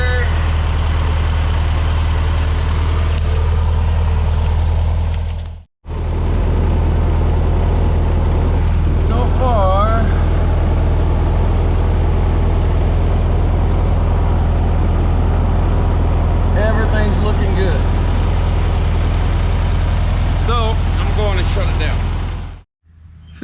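A 1973 VW Beetle with an air-cooled 1600 dual-port engine idles close by with a loud, steady low rumble. It cuts out briefly near the start and again at the end, and someone talks over it at times.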